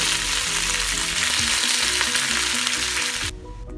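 Curry leaves hit hot oil already crackling with mustard seeds and fenugreek, producing a loud, dense sizzle that holds steady before dropping away sharply near the end.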